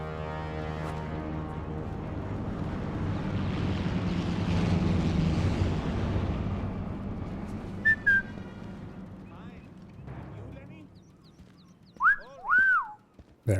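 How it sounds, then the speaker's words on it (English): A player character in the stealth shooter Sniper Elite 5 gives a short, clear two-note whistle to lure an enemy. It comes near the end, after a long low rumbling ambience and a few brief earlier chirps. "I can perhaps whistle and that might pull him over here."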